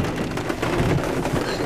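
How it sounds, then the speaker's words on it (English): Steady heavy rain pours down with a low, rumbling roar of thunder underneath, dense and continuous throughout. "as you can see, the rain has come"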